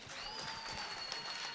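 Applause for police station staff at a provincial excellence awards ceremony, a quiet, steady wash of clapping from a crowd heard at a distance for a brief moment.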